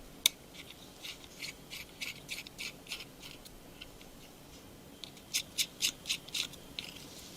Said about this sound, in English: start by taking your T2 screwdriver and undoing these two